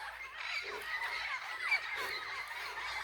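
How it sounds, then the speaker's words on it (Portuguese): Birds in the trees on a farm chatter and squawk continuously, many overlapping calls at moderate distance, fairly faint against a quiet rural background with no talking. "aqui tem muito pássaro nessas árvores."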